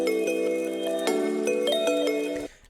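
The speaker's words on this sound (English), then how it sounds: "this, you know, kind of bell loop is still persisting down here" A bell loop in an electronic music track rings out as bright, tonal chimes struck in a repeating pattern over a sustained synth chord, clear and upfront before cutting off near the end.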